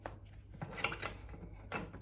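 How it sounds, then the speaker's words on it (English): Tarot card shuffling with soft riffling and rubbing bursts, a few quick flurries close by over a low steady hum. "we will do one last shuffle."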